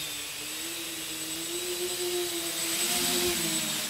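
A hexacopter drone flying on its first flight gives a steady high motor whine with a shifting pitch that climbs slightly near the end, loud and continuous with no talking.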